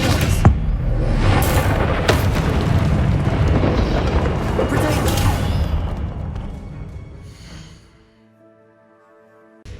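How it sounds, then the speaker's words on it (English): The Expelliarmus spell cast in the video game Hogwarts Legacy, a loud crackling, booming magical blast with bursts and rumbles that rage for several seconds, then fade into quiet with a faint tonal hum. "Expelliarmus!"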